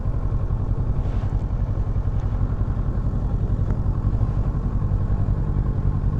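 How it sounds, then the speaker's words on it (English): A Kawasaki motorcycle rides along country roads, its engine a loud steady mid-pitched drone with wind noise, a 500 passing somewhere along the way, no talking over it. "There's one of them 500s, nice bike right there."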